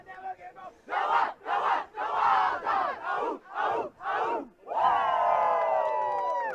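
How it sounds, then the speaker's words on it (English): An ultimate frisbee team shouts its cheer together at a club championship game, about seven rhythmic group yells in quick succession, closing on one long sustained shout, loud and close. "as we hear the Wild Dog cheer"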